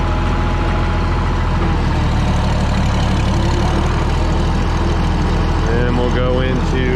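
A Minneapolis Moline tractor running in sixth gear while pulling a sickle bar mower gives a loud, steady, close engine drone with a constant low rumble throughout.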